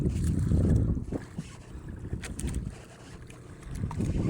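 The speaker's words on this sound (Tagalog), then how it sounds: "Yun guys, napakadaming bangka." Fishing boats out at sea produce a rumble of water against hulls and gusting wind, loud and continuous, with engine drone and wind buffeting the microphone and no talk.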